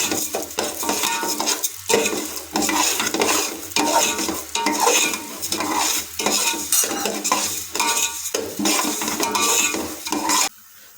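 Lentils for khichuri fry in a pan while a ladle stirs them vigorously, loud repeated scraping strokes over a crackling sizzle, stopping abruptly at the end.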